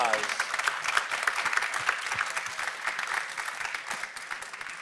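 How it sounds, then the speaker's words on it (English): A live audience applauds steadily throughout, with dense, moderately loud claps and a few voices mixed in. "Round of applause."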